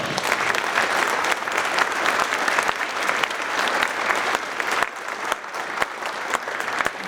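Audience applause at the Mr. East Valley 2023 event honouring heroes, a steady dense round of clapping from a large crowd, with a slight dip and pick-up near the end.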